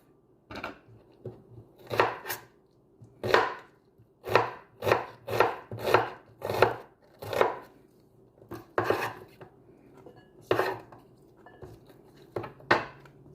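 Knife chopping half a red onion on a board for tuna salad, about fifteen crisp, close thuds in an uneven rhythm with short pauses between bursts, no talking.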